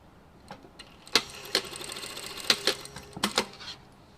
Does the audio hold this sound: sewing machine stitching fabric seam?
yes